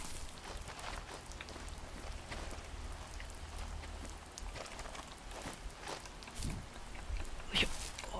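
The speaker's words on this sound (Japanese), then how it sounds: "静かに雨が降り続いて BGM がなくなりましたね" Quiet rain in The First Tree falls in a soft, steady patter with scattered small drops. It stays faint and continuous, with a few brief louder taps and rustles near the end.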